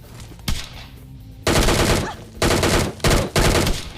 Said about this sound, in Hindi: साइड से ना मेरे को गन शॉट्स की आवाज आती है